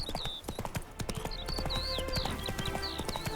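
A horse's hooves clip-clop steadily in The Witcher 3: Hearts of Stone, a brisk rhythmic trot close by with bird chirps overhead and a soft ambient outdoor bed.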